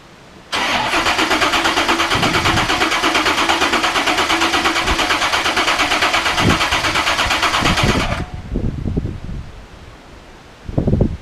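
481 engine in a 1964 Chevy C10 cranking and catching, a loud, steady roar lasting about eight seconds that then drops away into a few low, uneven rumbling bursts.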